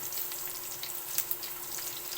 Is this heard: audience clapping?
no